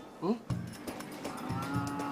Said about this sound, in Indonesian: Ayo, sapi.